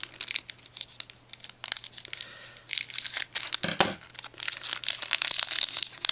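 Transformers trading card packs being torn open by hand, with close crinkling foil wrappers and ripping sounds in irregular bursts throughout.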